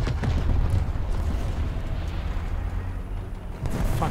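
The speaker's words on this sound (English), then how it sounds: "Missiles are shooting." Missiles fire and explode in War Thunder realistic battles on the Abandoned Factory map, producing a continuous heavy rumble of booms and blasts that ease slightly, then swell again at the end.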